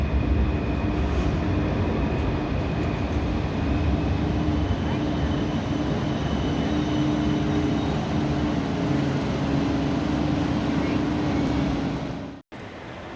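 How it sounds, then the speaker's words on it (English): A tram arrives on a Sydney street, a steady rumbling roar with a faint electric whine that holds for several seconds before a brief cutoff near the end. "So here comes the tram."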